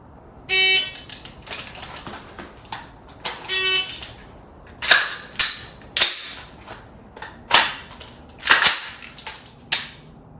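Sharp rifle shots crack out irregularly during a malfunction drill, about a dozen spread across the span, with a couple of electronic beeps early on and no talking.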